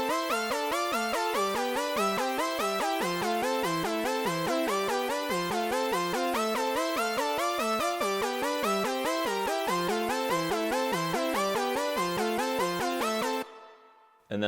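An 80s-style synth lead built in Logic Pro plays a bright, loud, rapidly repeating patterned melody on its own for about thirteen seconds before cutting off abruptly.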